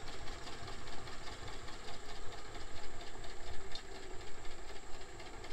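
A John Deere tractor engine idles at an outdoor tractor cruise, a steady low rumble with a faint knocking pulse, moderately distant and continuous, with no talk over it.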